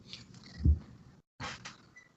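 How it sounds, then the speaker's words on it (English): A house cat gives a short, fairly faint meow with some purring rumble nearby, followed by a brief gap and a second quieter sound. "My cat keeps meowing"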